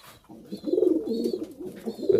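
Pigeons coo in soft, throaty repeated phrases, close by, with a faint higher chirp now and then in the background.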